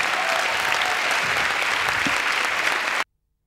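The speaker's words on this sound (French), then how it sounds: "Voilà, applaudissements, mesdames" A television studio audience bursts into steady, dense applause that holds at full strength for about three seconds, then cuts off abruptly into silence.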